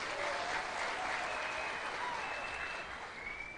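Applause from an audience at a Kenyan press briefing with the president welcoming the deputy governor, a sustained clapping wash that fades slightly toward the end, with no clear voices over it.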